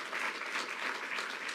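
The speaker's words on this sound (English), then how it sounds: "Let's give Frank a round of applause" Audience at a college campus event breaks into applause, a dense, continuous wash of many hands clapping at moderate distance, steady throughout with no voices standing out.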